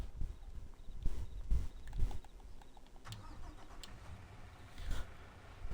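A semi-truck engine in Farming Simulator 22 idles and rumbles steadily at moderate volume, with a few sharper knocks and clunks scattered over the low drone, no talking.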